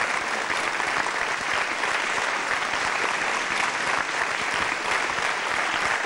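A studio audience on a TV show stage claps in a dense, continuous wave of applause, steady and loud throughout with no voices on top.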